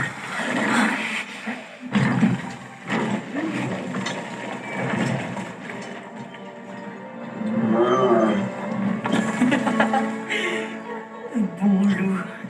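Growling wolf in the video game God of War Ragnarok, a low rumbling animal growl running through most of the stretch beneath game music and ambience, loud and close with swells.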